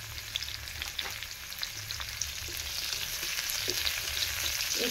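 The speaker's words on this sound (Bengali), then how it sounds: "একটু হালকা লাল লাল করে ভেজে নেব।" Chopped onion and green chili fry in a pan with a steady, close sizzle, broken by faint scrapes of stirring, with no voices.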